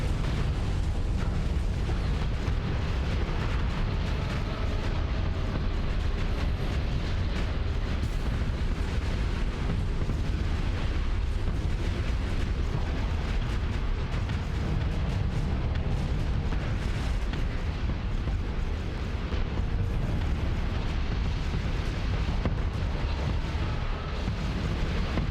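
Ion cannons fire in continuous, dense, rumbling bursts during a Starsector space battle, their booming barrage running loudly and unbroken throughout with no talking.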